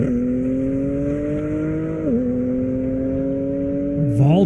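A Corvette accelerates hard down an airport runway at a drag race, its engine a steady rising drone with a brief gear-change dip midway, while a commentator talks over it.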